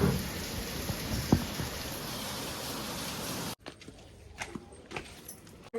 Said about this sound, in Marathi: टायमाला पाऊस पडतोय.